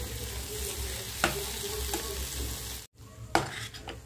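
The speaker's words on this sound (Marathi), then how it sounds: "वरून थोडा टोमॅटो टाकून घ्यायचा आणि कोथिंबीर आणि हे छान मिक्स करून घ्यायचं।" Okra bhaji with tomato and coriander being stirred in a pan, a steady sizzle with scraping spoon strokes and a brief pause near the end before stirring resumes.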